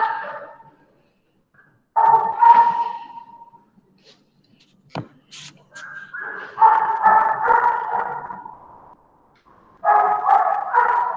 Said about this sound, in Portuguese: eu tenho um pastor alemão, ele não para de latir